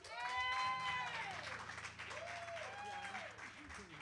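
Audience clapping for a guitarist at a live music show, a dense, steady patter of hands under a sustained ringing tone and a voice talking over it, holding at moderate loudness for the whole stretch.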